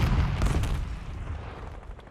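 A grenade goes off in a battle royale video game, a heavy, low rumbling boom that fades out over about two seconds.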